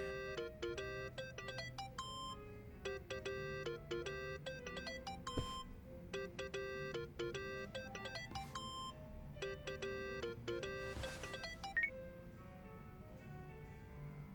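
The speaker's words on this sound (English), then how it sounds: "think that's your phone, man." A repeating electronic phone ringtone in Yakuza: Like A Dragon plays a bright chiming melody in regular cycles over a soft low rumble, with a few faint clicks between phrases.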